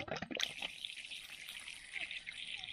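Water rushing out of an opened valve on a pumped-up pressurised bottle used to charge a glycol brine ground source heat pump system, a steady hissing spray following a few clanks, close and continuous.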